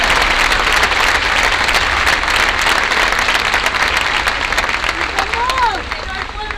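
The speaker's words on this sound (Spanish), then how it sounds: "Un fuerte aplauso para Luana" Political rally crowd in Mar del Plata applauds loudly for Luana Volnovich, a thick wash of clapping that tapers near the end as a voice rises over it.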